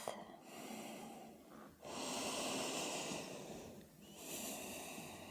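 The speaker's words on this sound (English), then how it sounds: "Deepen the breath." Deep, slow breaths during a vinyasa yoga class: long, airy inhales and exhales, close and soft, repeating in a steady rhythm with brief pauses between.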